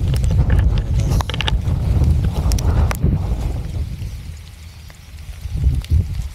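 Strong typhoon wind in Malabon buffets the microphone in heavy gusts, with rumbling low noise and occasional sharp knocks.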